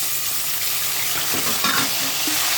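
Cardamom, cloves, cinnamon, cashews and raisins frying in hot oil give a steady, close sizzle with faint stirring scrapes throughout.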